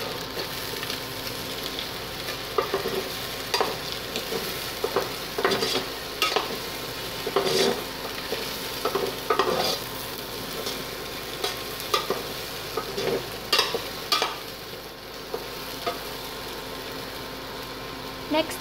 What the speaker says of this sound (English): I-add naman natin ngayon yung sibuyas. Then, i-mix lang natin siya.